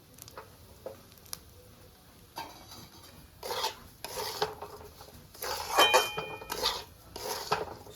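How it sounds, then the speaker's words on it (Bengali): Semolina roasts in oil with spices for upma in a pan, heard as intermittent close scraping and stirring strokes of a utensil against the pan, quiet at first and then louder in bursts. "সুজিটা আমার এইভাবে ভাজা হচ্ছে"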